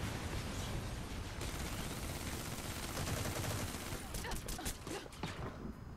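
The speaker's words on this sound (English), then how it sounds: "Who's shooting me? From where?" Gunfire in the multiplayer shooter Metal Gear Online 3, a dense, steady barrage of shots with a few sharper, distinct cracks near the end, loud and continuous throughout.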